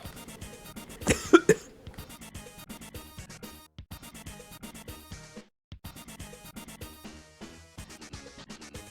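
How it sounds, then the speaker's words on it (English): A burst of harsh coughing early on, a cluster of loud hacks, followed by quieter rustling and intermittent small sounds. "I basically had a coughing fit"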